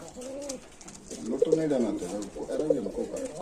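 Pigeons for sale coo in low, rolling phrases close by, repeating every second or so, while someone talks over them.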